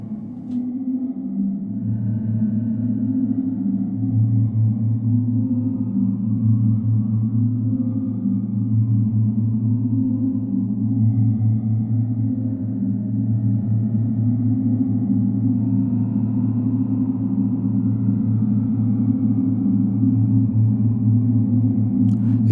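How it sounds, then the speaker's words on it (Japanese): A deep, sustained wash of diffuse reverb from a Strymon NightSky pedal that swells slowly and hangs in the air, smooth and low with no talking. "深くゆっくりと立ち上がるリバーブです"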